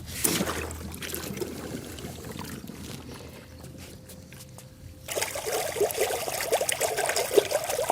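A MOVA Diver A10 robotic pool cleaner is lowered into a swimming pool, with splashing and trickling water up close, a quieter stretch, then steady bubbling and churning as it starts underwater.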